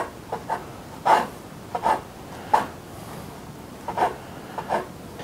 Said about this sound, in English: And I'm going to take these heels, because I hate to throw stuff away. And I'm going to cut these into little teeny pieces.